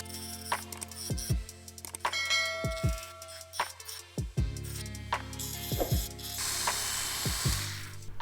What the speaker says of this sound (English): I have my Dremel tool and I'm going to just work on filing these little pieces down